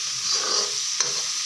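Ginger and garlic fry in a pan, a loud, close, steady sizzle with one brief clink of a stirring spoon near the end.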